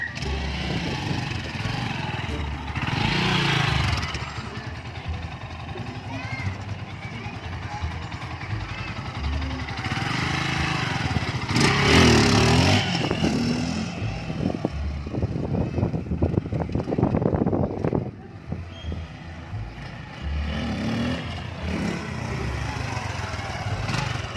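A GPX Racing Demon 150 GN motorcycle engine idles and revs during a test drive, a rough mid-distance rumble that swells and drops several times while people talk over it.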